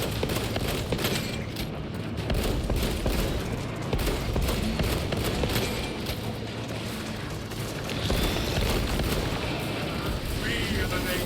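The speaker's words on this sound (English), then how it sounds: "Attack it with that grenade." Grenade blasts and continuous gunfire in the video game Space Marine 2, a loud, dense battle din of booms and shots with no break, running under a voice talking throughout.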